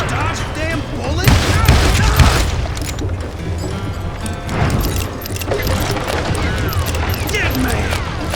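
Gunfire in the Western shooter Call of Juarez: Gunslinger comes as a dense, loud run of shots and booming impacts, with ricochet whines and shouted voices mixed in throughout.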